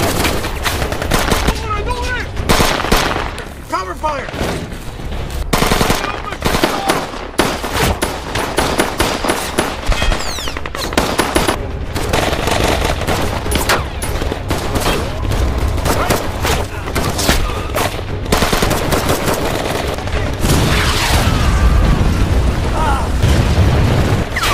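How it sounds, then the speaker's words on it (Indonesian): Troops in an action film exchange rapid gunfire. Loud bursts of automatic weapons and single shots crack and echo with booms, a dense, sustained battle with brief voices mixed in. "beberapa pasukan JFB melepaskan tembakan sehingga kontak senjata pun kembali terjadi"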